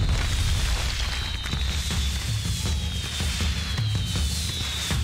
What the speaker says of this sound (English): we've set up a fireworks display.